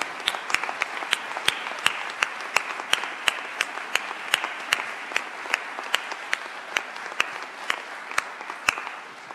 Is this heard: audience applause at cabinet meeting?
yes